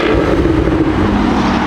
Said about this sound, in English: Can I rev it a little bit?